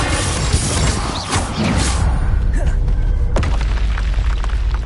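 Loud, dense blasts from Bombarda and Confringo spells in the Hogwarts Legacy video game, with booming impacts and crashing debris filling the whole stretch and a sharp burst near the end.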